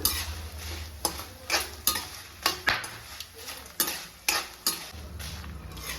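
Curry leaves and spices fry in oil over a low flame, a soft continuous sizzle broken by regular scraping and tapping strokes of a spoon stirring the pan about every half second.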